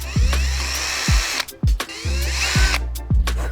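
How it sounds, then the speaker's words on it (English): A power drill whirs in short bursts, drilling holes in rubber feet, spinning up and winding down about five times in quick succession, close by with no talking. "I think I can just drill them, right?"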